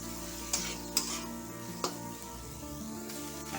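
Cauliflower florets being stirred in a pan with salt and turmeric, a soft scraping mix with a few sharp clinks of the spoon against the pan over a low steady background.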